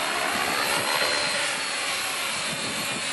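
A light aircraft engine drones steadily during flight, a loud, continuous propeller roar heard from inside or close by, with no speech over it.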